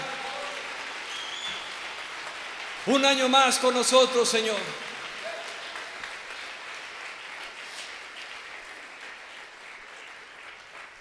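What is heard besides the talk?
congregation applauding loudly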